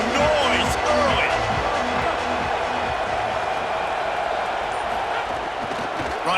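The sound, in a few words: stadium crowd noise in video game EA College Football 27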